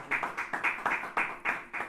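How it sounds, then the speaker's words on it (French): A church congregation applauding, steady rhythmic hand claps in unison at a brisk even pace, close and fairly loud, with no voices over them. "On applaudit le Seigneur, bien sûr."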